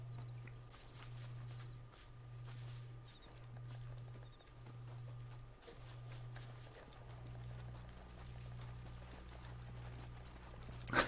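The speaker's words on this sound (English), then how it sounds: "The horse is just trying desperately to climb that slope that it could not get up." Horse hooves in Red Dead Redemption scrabble and plod unevenly as the animal struggles up a slope it cannot climb, a steady low engine-like drone underneath and a sharp knock at the very end.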